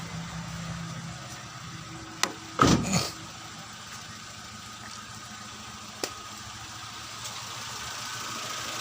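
A Daihatsu Xenia 1.3 engine idles steadily after servicing for a middle-rpm misfire, a low continuous hum with a brief knock or clatter near the middle and a couple of faint ticks, no talking.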